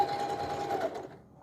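Sewing machine running a straight stitch around the edge of a felt doll muzzle, a steady fast whirring hum for about a second before it stops.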